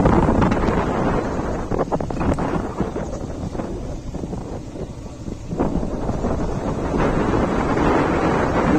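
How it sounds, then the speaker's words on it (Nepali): Cold wind buffets the microphone on a hilltop at Nagarkot, a loud, rough rumbling roar that surges and dips slightly in gusts, dropping briefly midway before rising again, with no talking. "क्या चिसो हावा आइरहेको यार"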